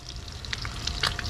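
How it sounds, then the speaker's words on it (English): Fish sizzles and bubbles in unsalted butter in a skillet, a steady close crackle with small spitting pops. "Yes, sirree. Look at that bubbling in butter."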